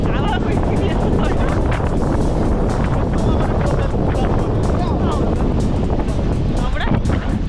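Strong wind buffets the microphone in a steady, loud roar with gusty rumble throughout, while a voice talks over it.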